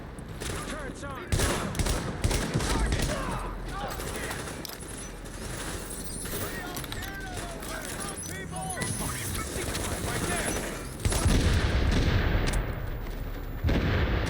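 Turret gunfire in The Division video game crackles in dense rapid bursts, with loud explosions near the end and a player's voice heard over the fire.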